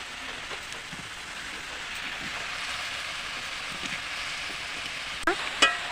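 Sauce with water simmering in a pan for potato and green banana kofta, a faint steady bubbling hiss close by, ending with a couple of sharp clinks, no one speaking.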